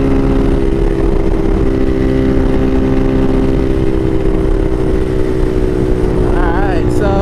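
Bashan Motomax 250 motorcycle fitted with a Nibbi PE30mm carburetor, riding with a loud steady engine drone and strong wind rush throughout, pitch rising slightly near the end.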